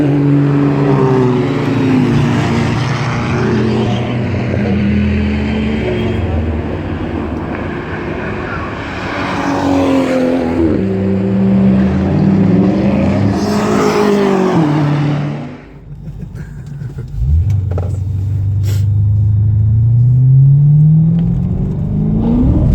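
Race cars at the Nürburgring roar past the Garden corner one after another, loud engines sweeping up and down in pitch with rising and falling passes, a brief lull before another car accelerates away.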